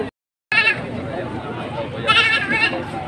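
Goats bleat among a crowd at a Philippine livestock market, with murmured talk and chatter running under several short calls after a brief silent gap.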